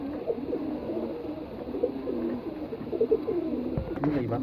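Pigeons coo in low, throaty, repeated phrases close by, with soft rustling and a brief flutter near the end, over faint background noise.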